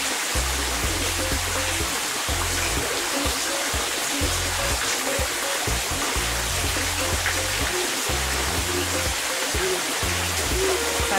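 Water rushes along a river at the Baths of Aphrodite near Latchi, Cyprus, a dense, steady broadband hiss heard close with low wind rumble and faint voices now and then.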